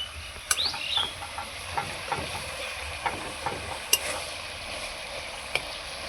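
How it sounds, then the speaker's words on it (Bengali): Taro pieces stir-fried and mashed with a metal spatula in a pan for a vegetarian curry with paneer, chickpeas and jackfruit seeds; a steady moderate sizzle runs throughout, with occasional light spatula taps and scrapes, and no talking. "এখন ভালো করে আমি কষিয়ে নেব, আর কচুগুলোকে খুন্তি দিয়ে একটু থেতলে দেবো।"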